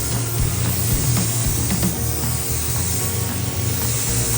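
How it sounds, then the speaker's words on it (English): An Iwata LPH-400 (Iwata Lighter 4L) paint spray gun hisses continuously up close, a steady airy rush without pauses or talking. "first time spraying with this gun too."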